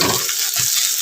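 Chopped onions and garlic sizzling in hot oil in a pan, being fried until light red for a fish paturi dish; a close, continuous crackling hiss with no talk.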